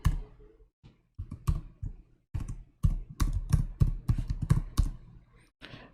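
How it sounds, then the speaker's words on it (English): Someone types a name and an email address on a computer keyboard, producing close, uneven bursts of clicky keystrokes separated by short pauses, with no talking. "we type a name here, and we type a email address"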